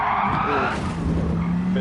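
Tire squeal from a car oversteering in the Gran Turismo 7 racing game, a steady screech layered over a continuous engine drone that stays loud for under two seconds.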